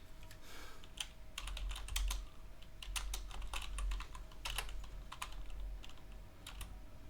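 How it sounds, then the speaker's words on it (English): Steady typing on a computer keyboard, a continuous run of quick, close key clicks with a few brief pauses and no talking. "and finish typing that out."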